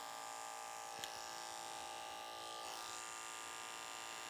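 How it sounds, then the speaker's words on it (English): Electric hair clipper cutting hair as it is drawn away from the head while tapering a pompadour cut, a steady faint buzz throughout with a brief click near the start. "that clipper is cutting as you're pulling away from the head"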